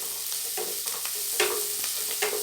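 Shredded cabbage cooks in a hot pan for vathani avalakki (poha), with a steady close sizzle broken by repeated scraping stirs of a spoon, no voices.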